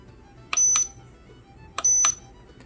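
A digital kitchen scale gives two short, clear electronic beeps as its side button is pressed, each sharp and close, about a second and a quarter apart over quiet room noise.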